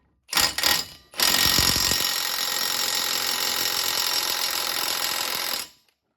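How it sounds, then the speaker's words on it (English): A power tool in high gear tightening a bolt on a Yamaha YXZ long-travel rear suspension: two short revs, then a steady loud whine with rapid hammering impacts that runs for about four and a half seconds and stops. "I'm gonna just keep torquing it until I get the holes to line up for my cotter pin"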